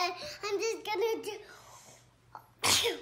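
A sneeze bursts out loud near the end, following a stretch of a child's high-pitched talking and babbling close by.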